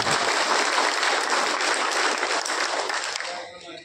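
Audience applause at an Ahilyabai Holkar Jayanti gathering, dense clapping from a crowd that holds steady for about three seconds and then thins out quickly.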